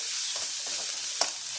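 Chopped paneer bhujia sizzles steadily in a pan, a dense hiss of frying with a few soft scrapes of stirring, close and continuous.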